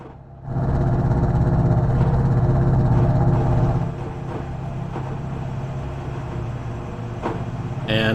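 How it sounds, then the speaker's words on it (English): Race cars idle and rev on the starting grid at Zandvoort in iRacing, BMW machines rumbling steadily, one loud surge easing to a lower idle, with a voice talking over the engines. "I can hear these cars are gridding."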